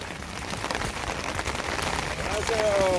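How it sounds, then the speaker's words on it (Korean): Steady rain patters across a surface at a racehorse training ground, a dense constant hiss with faint voices in the background. "어 진짜 비가 지겹게 오네요"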